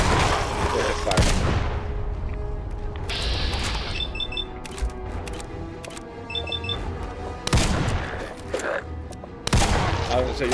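Gunfire in Fallout 4 with Sim Settlements 2, loud sharp shots cracking out at intervals amid game ambience and mechanical clicks, with someone talking over the action.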